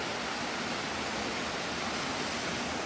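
Steady broadband rush of a waterfall in a forest during a rainstorm, continuous and fairly loud with no breaks and no voices.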